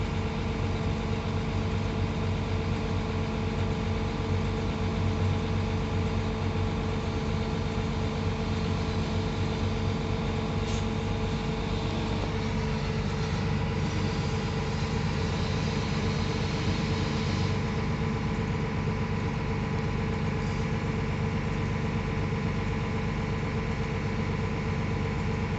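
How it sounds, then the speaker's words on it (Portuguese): Tractors and trucks run steadily through a mechanized harvest, a continuous droning engine hum with idling rumble, moderately distant and without pauses or talk over it. "o dia inteiro é trator pra lá, pra cá, caminhão encostando, máquina carregando"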